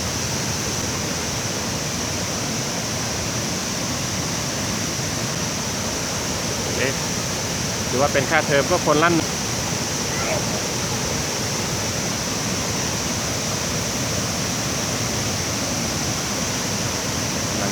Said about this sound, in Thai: เป็นน้ำตกที่ไหลลงมาเป็นสามสายด้วยกัน